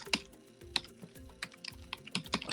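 Irregular bursts of keystrokes on a computer keyboard while writing Java code, close and fairly quiet, with short pauses between clusters of taps and no talking.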